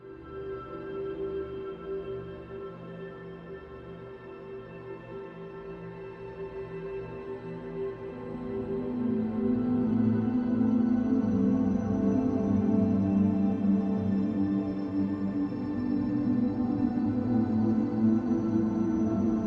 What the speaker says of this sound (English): we are going to make some ambient music